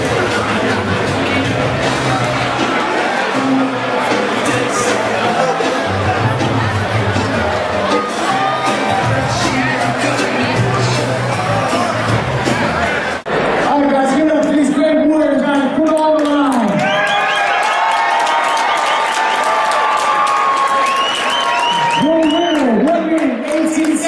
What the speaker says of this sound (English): The crowd's on their feet.